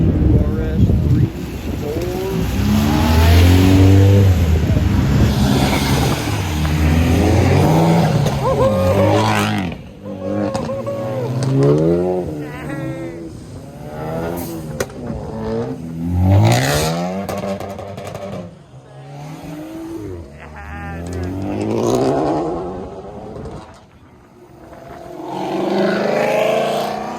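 At a busy car meet, a car engine revs hard, rising and falling in loud swooping bursts close by, with people talking over the noise.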